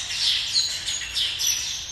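A large flock of Taveta golden weavers chirps steadily, with bright overlapping calls and tweets that continue throughout at a close, moderate level.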